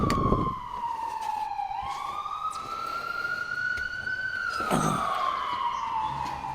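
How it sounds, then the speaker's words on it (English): An ambulance siren wails through a slow rising and falling sweep as the vehicle drives past. It is fairly loud, over traffic rumble and a few brief knocks nearby. "Ambulance heading out to save somebody's life, probably."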